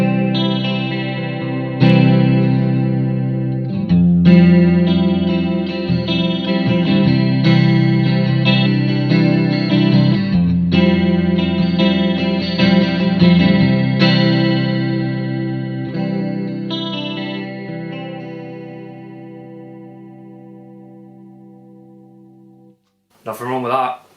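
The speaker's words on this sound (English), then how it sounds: "Starting with just the traditional sounding chorus that sounds a little like this." Electric guitar run through the traditional chorus setting of a Strymon Mobius modulation pedal, shimmering sustained chords and notes playing steadily for about twenty seconds before fading, followed by a brief spoken voice at the end.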